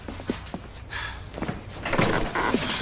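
A door is shut in a quiet interior room, with a couple of knocks or bumps before it and a firmer closing thud with rustle and movement after; no one talks.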